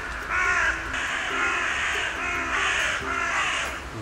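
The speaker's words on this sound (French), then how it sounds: "Ok, donc là il y a un maximum de corbeaux, enfin de corneilles, pardon, qui croassent." Many carrion crows caw in repeated harsh rounds, a dense overlapping chorus of rasping calls at a steady rhythm, fairly loud and with no talk.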